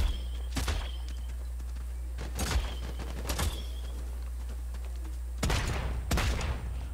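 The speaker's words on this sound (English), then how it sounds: "Yo, that's the venom pistol!" Venom pistol gunfire in the video game Realm Royale on Xbox, several loud bursts of shots spaced a second or two apart, with a close double burst near the end, over a steady low game rumble.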